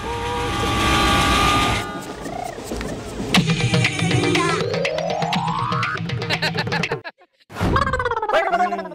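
Train sounds during a children's train game in a comedy sketch: loud, close whistle-like horn tones and a steadily rising tone over rumbling chugging, cutting out briefly before resuming.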